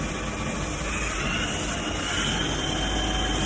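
A Johnford BMC-110 CNC table-type horizontal boring mill spindle runs at high speed around 1,500 to 2,000 RPM, a steady, dense machine whine and hum with broadband noise, constant and fairly close throughout.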